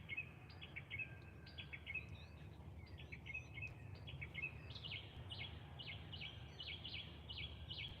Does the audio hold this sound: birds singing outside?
yes